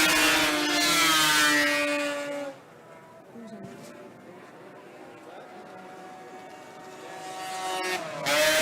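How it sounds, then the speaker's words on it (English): Racing snowmobile engine roaring at high speed, a loud sustained whine that fades as the machine passes, then a second sled screams in close near the end. "Listen to that engine."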